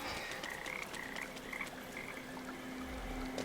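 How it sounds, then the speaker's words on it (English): Frogs croaking in the video game Papo & Yo, a steady chorus of croaks over a trickling water ambience, moderately quiet and continuous, with no voices. "we've got more frogs in the area."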